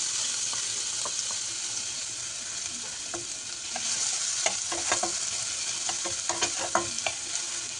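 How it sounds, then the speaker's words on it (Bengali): Chopped onion sizzles and fries in hot spiced oil while being stirred, with steady close frying hiss and scattered clicks and scrapes of the spoon against the pan, no talking. "পেঁয়াজটা একটু লাল লাল করে ভাজা পর্যন্ত আমরা এইভাবে নেড়ে যাব।"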